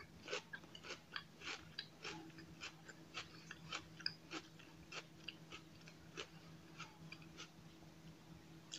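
Someone chews celery in lentil hummus with soft, moist crunches repeating in a steady rhythm, close but fairly quiet, against a faint constant hum.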